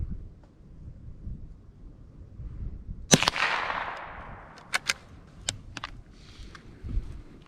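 A single sharp gunshot cracks from a Savage Mark II rifle outdoors, followed by a fading rumbling echo and a few smaller clicks and knocks afterward.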